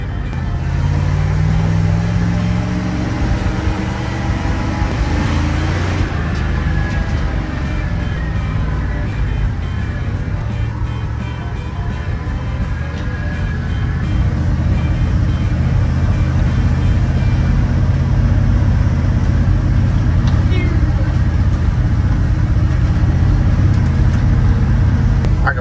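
A 1980 Dodge Power Wagon engine idles in a field, a steady low rumble heard up close for the whole stretch, rising slightly in level toward the end, with no voices.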